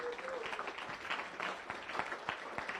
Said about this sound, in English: Another round of applause for all of our winners here.